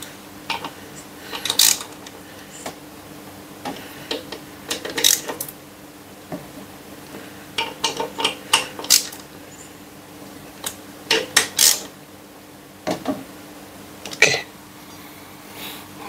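Work on the front brake of a Suzuki Burgman scooter: tools clink and knock as the brake bolts are tightened, in scattered sharp metallic taps and ratchet-like bursts, close and fairly loud.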